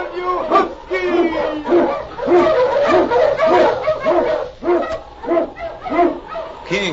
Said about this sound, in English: On King! On you huskies!